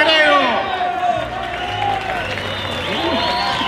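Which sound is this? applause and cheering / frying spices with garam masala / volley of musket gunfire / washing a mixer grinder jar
applause and cheering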